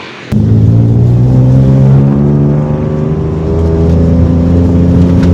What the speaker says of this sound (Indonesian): Walaupun dia knalpot racing, tapi suaranya tetap bulat